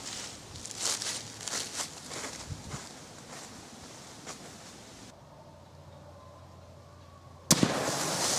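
A .270 rifle loaded with a Sierra GameKing tipped bullet fires one sharp, loud shot outdoors at a 100-yard target. The shot comes near the end, after light rustling and handling sounds and a quiet pause.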